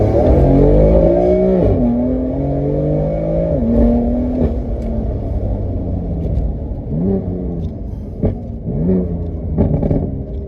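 A single-turbo BMW F80 M3 accelerating hard in first gear, loud engine rising in pitch through repeated surges, heard from inside the car with no talking.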